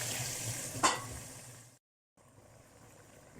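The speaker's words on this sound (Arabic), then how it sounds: "راح احط بسم الله الرحمن الرحيم شوي من مرق دجاج" Chicken broth poured onto toasted rice in a pan hits with a loud sizzle and a sharp splash, the hiss fading steadily before cutting out, then a quieter simmering bubble resumes.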